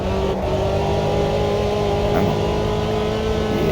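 A racing car engine in the Automobilista 2 racing game drones at steady high revs, with a constant whining transmission tone running throughout, loud and unbroken.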